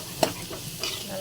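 Greens being roasted in a pan and stirred. A sharp scrape of the spoon rings out against a soft, steady sizzle, followed by a second fainter stir.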